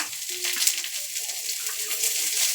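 Green and red chillies, turmeric and ginger sizzle steadily in a frying pan while being stirred, a continuous bright frying hiss with faint scraping throughout.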